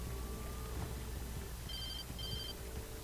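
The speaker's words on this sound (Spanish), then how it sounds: "Teléfono." A telephone rings twice inside the Alan Wake video game, two short bursts of electronic trilling against a steady low ambient hum, with no voices heard.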